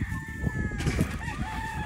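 A rooster at a gamefowl farm crows loudly and close by in one drawn-out call, with clucking and other fowl sounds around it.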